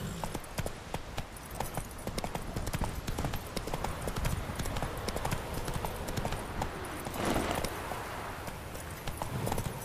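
Hooves of Roach the horse in The Witcher 3 keep up a steady clip-clop close by for the whole stretch, with a dense bed of game ambience behind them.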